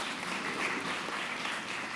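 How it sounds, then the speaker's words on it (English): Audience applause at a geospatial tech demo day event fills the room, a dense, steady wash of many hands clapping at moderate volume without a break, with no speech over it. "Please give him a big round of applause."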